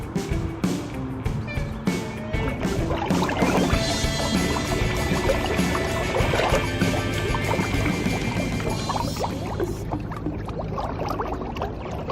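Pedal boat cruising upstream on a river near the Studley Park Boathouse, giving a steady mix of water churning and splashing with mechanical pedalling, continuous and fairly close throughout.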